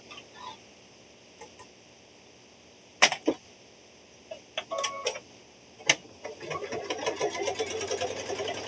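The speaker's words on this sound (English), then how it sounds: "let's go ahead and stitch this down" A sewing machine stitches down Christmas quilt binding in short bursts of rapid ticking between clicks and pauses, then runs steadily near the close, with no one speaking.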